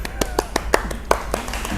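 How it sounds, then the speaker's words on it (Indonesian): A podcast studio audience welcomes a guest doctor with a few sharp claps, spaced irregularly and set against a quiet room. "Beri tepuk tangan semuanya"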